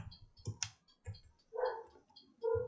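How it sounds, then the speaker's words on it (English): A few quick, dry mouse clicks up close, followed by short tonal computer chimes, while working in Fusion 360. "just right mouse click on it."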